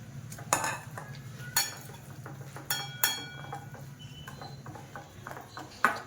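Mawa cake batter whisked by hand in a bowl, with a steady scraping rhythm and several sharper clinks of the whisk against the bowl's side, close and fairly quiet.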